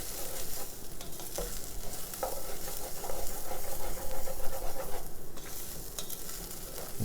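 Basmati rice stirred and toasted in a pan for turmeric rice, giving a close, continuous frying sizzle with repeated scraping and shuffling stir strokes and soft hiss.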